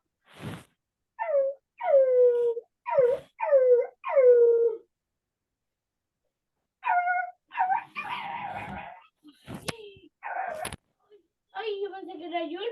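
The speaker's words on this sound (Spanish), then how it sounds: "Ladra tanto el perro." A dog barks and yelps in short clustered bursts with whining, howl-like tones, loud and close, then further barks mixed in with talking and a few sharp knocks.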